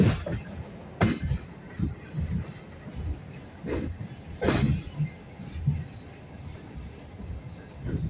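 A General Roca line train pulls into Temperley station with a low rumble and irregular heavy clunks and clacks from wheels and cars, close by and fairly loud.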